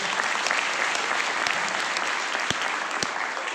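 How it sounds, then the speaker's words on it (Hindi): Audience applause at a business seminar: dense, continuous clapping from a large crowd, loud and sustained throughout. "ताली थोड़ी जोरदार वाली बजाइए।"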